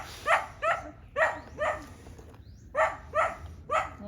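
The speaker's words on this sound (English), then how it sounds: "And there's a ubiquitous barking dog." A dog barks repeatedly outdoors in a tranquil setting, about eight sharp, loud barks in uneven pairs and runs with short gaps, no talking.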